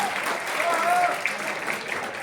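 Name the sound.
audience applause at a poetry event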